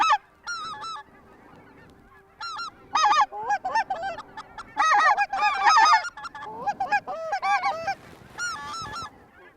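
Specklebelly geese honking in repeated bursts of overlapping calls, a flock nearby with brief quiet gaps between volleys, no talk.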